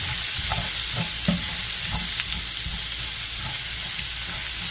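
Onions sautéing in a hot pan give off a loud, steady sizzle, with a few soft scrapes and stirs of a utensil breaking through near the start.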